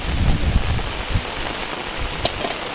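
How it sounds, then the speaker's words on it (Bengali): Heavy rain falls outside a kitchen in a steady broadband wash, with a few low thumps near the start and a brief sharp crack later, no voices present. "বাইরে ভীষণ বৃষ্টি হচ্ছে।"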